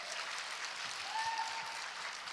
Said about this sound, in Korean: 박수 나오죠?